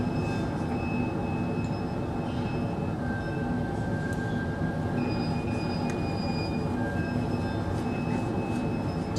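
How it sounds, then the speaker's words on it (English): An old farm windmill on the high plains creaks and squeals with thin, drawn-out metallic tones over a steady, dense rumble that runs without a break, fairly close and moderately loud. "I want you to hear what that windmill sounded like"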